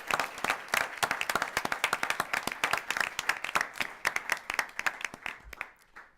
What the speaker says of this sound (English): Ladies and gentlemen, a round of applause for our judges.